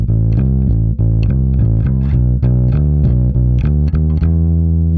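An electric guitar played through a Shift Line Olympic MkIIIS pedal produces loud, distorted tones, with a driving riff of rhythmic repeated notes and short gaps between phrases.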